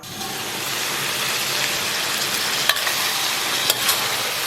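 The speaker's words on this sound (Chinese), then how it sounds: "然后给里边放点干辣椒，小火给它炖至汤汁熬干" Beef tripe with dried chilies simmering gently over low heat in a pot, giving a steady soft bubbling hiss throughout with a couple of faint clinks, no talking.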